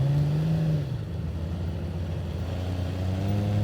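A Honda Goldwing motorcycle engine runs at low, slow-speed revs during cone practice, holding a steady loud drone that dips slightly and then rises again, close by.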